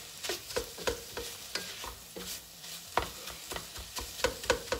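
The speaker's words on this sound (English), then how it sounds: "I'm going to continue chopping the ground beef" A hamburger chopper breaks up ground beef frying in a pan, giving repeated scraping clacks in an uneven rhythm over a soft background sizzle, close and fairly loud.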